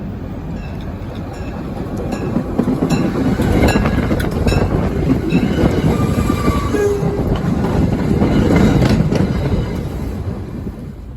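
A train returning inbound rumbles past on the Pan Am Southern line near Ayer, Massachusetts, with steady rail and wheel noise, brief wheel squeals and a loud, sustained presence throughout.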